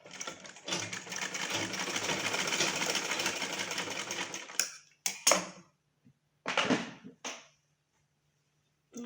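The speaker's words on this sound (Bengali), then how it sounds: "কাপড় লাগানো শেষে কাঁধটি সিলিয়ে নিব।" A sewing machine stitches the shoulder seam of a small child's frock, running in one long steady burst of rapid needle chatter, then stopping for a pause before several short bursts and a final brief start.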